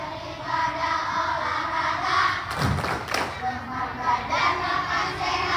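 At a National Children's Day event at an Indonesian primary school, a crowd of schoolchildren chants together with rhythmic hand claps and thumps. A loud clap burst comes about halfway through. The voices stay steady under the clapping the whole way.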